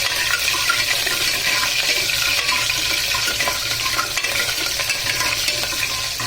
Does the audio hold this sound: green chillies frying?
yes